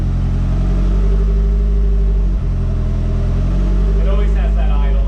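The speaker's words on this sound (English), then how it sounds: "It always has that idle, that's normal." Freshly built, forged Nissan Silvia engine idling on its first start, a loud, steady low rumble running throughout with a brief dip midway and a voice speaking over it near the end.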